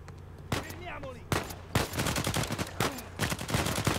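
Rapid bursts of gunfire from the Uncharted 4 video game, several sharp volleys crackling close and loud one after another, with busy game effects between shots and no talk.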